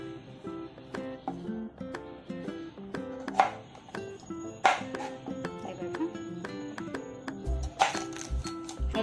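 Knife slicing fresh okra pods lengthwise on a board for stuffed bhindi in a home kitchen, a steady run of light chopping taps and a few sharper knocks against a cutting board, close and fairly quiet.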